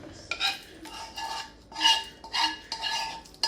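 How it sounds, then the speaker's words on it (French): Cooked chopped onion, carrot and courgette are tipped into a bowl for vegetable muffins, with a series of close, light clinks and scrapes of a utensil against dishware in uneven bursts. "une fois que c'est fait, vous versez vos légumes dedans"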